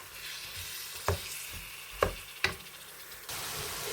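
Minced meat (keema) frying in a pan, a soft continuous sizzle broken by three sharp scraping stirs of a spoon, close and fairly quiet, no voices.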